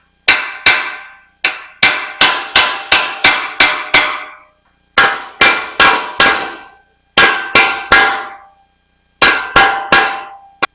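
Hammer blows striking a steel truck bumper to knock out dents, sharp metallic clangs in quick bursts of four to seven hits separated by short pauses, loud and close.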